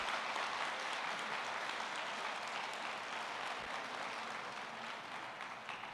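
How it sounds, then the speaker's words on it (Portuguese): Audience applause at a church women's tea gathering, a steady broadband wash of clapping lasting throughout, fairly distant and even in level with no voices standing out. "Aplauda o teu pai."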